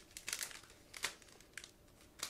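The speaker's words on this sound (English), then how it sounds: "we still need to cut through this plastic bag in order to open it." Crinkly plastic packaging from a 1/72 model kit is cut open, giving several quiet, sharp rustling bursts spaced irregularly, close up and alone.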